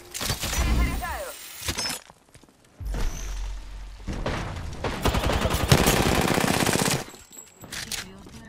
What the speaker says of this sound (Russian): Палим в них! По мне стреляют!